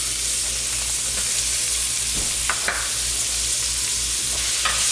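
Garlic and a handful of onions frying in a pan for chicken fried rice, a steady broadband sizzle with a few louder crackles and stirring scrapes, close and continuous, no talking.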